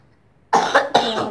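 Two harsh coughs from a person with a cold break out close to the microphone after a moment of near silence, the second quickly following the first.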